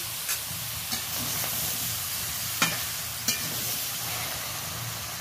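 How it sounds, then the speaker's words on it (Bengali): Vegetables with tomato for a tangy tomato dish sizzle steadily in a pan, with a few sharp spatula knocks against the metal as they are stirred, close and continuous with no voices. "ভালো করে নাড়াচাড়া করে নিচ্ছি।"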